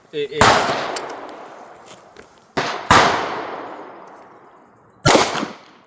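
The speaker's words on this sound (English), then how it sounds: "Shooting one-handed, you can't cheat it as much as you can two-handed." Three sharp pistol shots fired one-handed at a shooting range, each a loud, close crack with a long decaying echo, the first two about 2.5 seconds apart and the third following after a pause.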